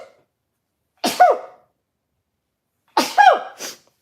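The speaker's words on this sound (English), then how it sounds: "I'm going to sneeze." Two loud, sharp sneezes from an adult, about two seconds apart, each a sudden burst with a wheezy tail, the second followed by a short extra snort, set against silence.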